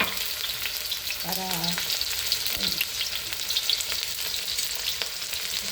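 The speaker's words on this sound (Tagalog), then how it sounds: "Prituin muna natin yung ating onion" Onion sizzling in hot oil for a home-cooked lunch, a steady crackling hiss running throughout with brief stirring or scraping sounds and a short burst of talk partway through.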